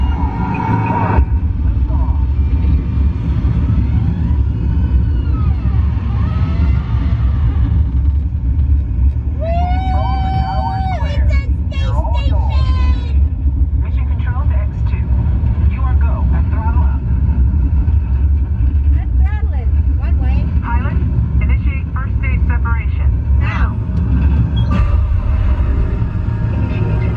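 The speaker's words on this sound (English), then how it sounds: "We have main engine start." Simulated rocket main engine launch aboard the Mission Space ride at Epcot, Disney World: a loud, steady low rumble fills the whole stretch, with a brief rising whine and scattered electronic effects partway through, and voices talking over it.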